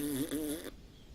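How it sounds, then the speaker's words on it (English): A short fart sound effect, a buzzy, wavering blurt lasting under a second, loud and close, followed by quiet. "Oh, fart sounds very inappropriate."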